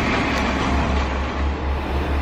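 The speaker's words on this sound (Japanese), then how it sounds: "そのため早朝からディーゼルエンジンの音が山あいに響き渡ります。" A Kiha diesel railcar engine idles at a station on the non-electrified Inbi Line in a mountain valley in northern Okayama, a steady loud low rumble with a throbbing drone and no voices.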